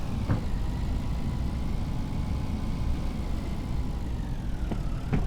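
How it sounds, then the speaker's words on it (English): In a farming video game, a small tractor engine drones steadily as it struggles to pull a small tanker uphill, a constant low, mid-level rumble with a couple of faint, brief clicks. "This little tractor has a tough time pulling this little tanker up."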